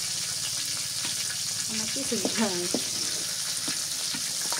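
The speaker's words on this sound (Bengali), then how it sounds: "এটা পাঙ্গাস মাছ তো একটু করকরা করে ভাজলেই বেশি ভালো হয়" Pangas fish, including the head, frying in spitting oil for a crisp finish gives a steady close sizzle throughout, while a voice speaks briefly over it.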